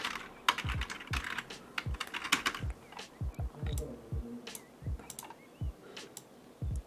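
Steady typing on a computer keyboard, close by, with irregular bursts of key clicks and brief pauses, fairly quiet with no voices.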